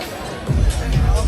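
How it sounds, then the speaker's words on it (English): A crowd of football fans at a World Cup watch party in Philadelphia, a loud, close wash of babble and cheering that swells halfway through. "look at this crowd. Unbelievable. Unreal atmosphere."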